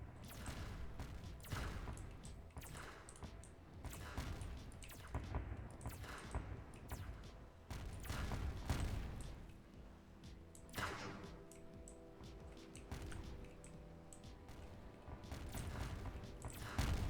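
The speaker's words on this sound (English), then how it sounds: "so bigger explosions." Explosions in a roguelite bullet heaven video game: a dense, continuous barrage of bursts and crackling impacts that runs the whole time at moderate level, layered with game effects.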